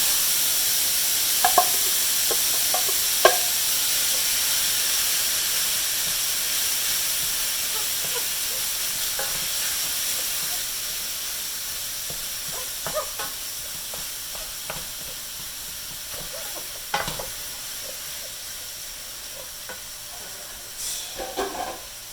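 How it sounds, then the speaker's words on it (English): Steady hissing sizzle of ground beef frying in a pan, continuous and close, with occasional small pops and crackles. "I'm hearing less sizzle."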